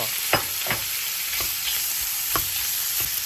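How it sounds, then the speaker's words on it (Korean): Garlic sizzles in olive oil and melted butter in a hot pan, a steady frying hiss broken by a few sharp clatters as it is moved or stirred around. "올리브유랑 버터 넣고 버터가 다 녹았을 때 마늘을 넣어주세요"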